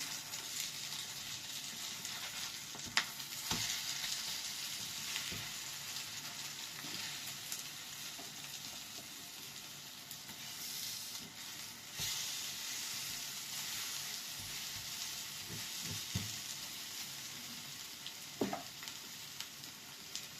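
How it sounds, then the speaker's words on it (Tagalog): Potatoes frying in oil in a home kitchen: a steady, moderately loud sizzle runs throughout, broken by occasional clinks and stirring knocks, with no talking. "Ayan po, meron pa rin tayong piniprito."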